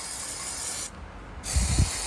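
Aerosol penetrant sprays in a steady hiss onto a 2013 GMC Chevy engine exhaust manifold, a loud close burst that stops briefly midway, then resumes with low knocking handling noises.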